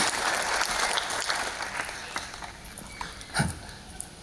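An audience claps, a dense burst of applause that gradually thins into scattered individual claps, with one louder clap near the end.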